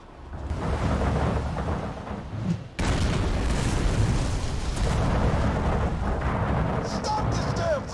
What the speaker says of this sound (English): You can call the fireworks grenade bad,